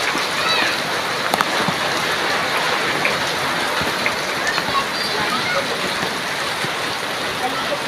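Heavy rain pours steadily onto surfaces outdoors where people are bathing in it, a dense unbroken hiss with scattered close droplet hits.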